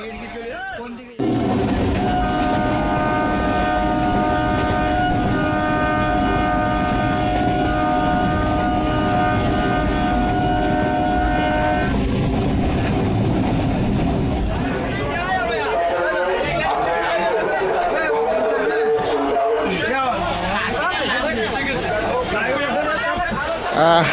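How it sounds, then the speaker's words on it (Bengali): A crowded morning passenger train full of commuters and pilgrims leaves Sealdah's South Division, sounding a long sustained horn before rumbling and clattering along the rails amid a constant murmur of passengers' chatter. "শিয়ালদার সাউথ ডিভিশন থেকে সকাল 9:16 ডেলি প্যাসেঞ্জার ও পুণ্যার্থী ঠাসা ট্রেন যাত্রা শুরু করলো তার গন্তব্যে।"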